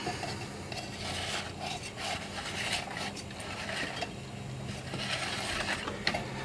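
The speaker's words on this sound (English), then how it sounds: "get that spring good and wound up" A recoil starter spring on a Honda ATC 185s is wound up by hand, producing close, continuous ratcheting clicks and mechanical rubbing.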